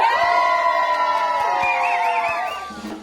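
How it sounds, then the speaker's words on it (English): A crowd at a community theatre company event cheers and whoops loudly for one man, a bright mass of voices that swells steadily and then begins to fade. "a big cheer for Wayne!"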